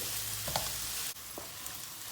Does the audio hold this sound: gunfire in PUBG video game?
no